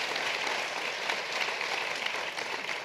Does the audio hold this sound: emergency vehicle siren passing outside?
no